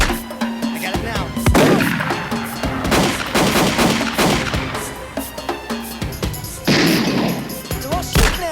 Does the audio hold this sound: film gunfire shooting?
yes